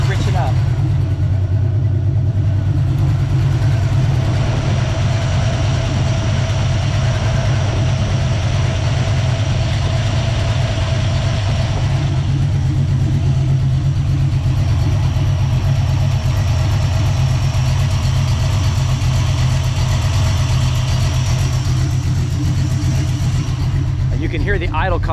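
A Small Block Ford 306 with GT40P heads, an Anderson N41 cam and a Holley double pumper carburetor idles loudly and close by, its deep, lumpy rumble running steadily throughout.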